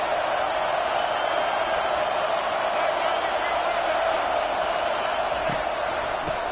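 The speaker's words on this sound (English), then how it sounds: "It is getting loud as this crowd tries to help its defense." A loud college football stadium crowd roars steadily, a dense, continuous wall of cheering that holds at full volume throughout, with no break or lull.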